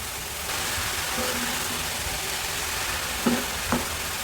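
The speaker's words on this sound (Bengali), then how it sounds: "এভাবে আস্তে আস্তে নাড়তে নাড়তে রান্নাটি হয়ে যাবে" Banana flower (kolar mocha) fry hisses evenly in a pan as it is stirred slowly, with two light utensil knocks against the pan near the end and no talking.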